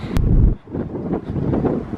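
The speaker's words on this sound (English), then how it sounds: "Sorry about the wind." Gusts of wind buffet an outdoor microphone, loud and rumbling for two seconds with a brief lull between blasts.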